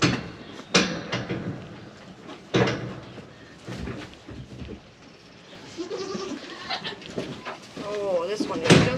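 Goats bleating in a barn during a goat birth, several wavering bleats, some close, mixed with frequent talking, a few knocks and rustles.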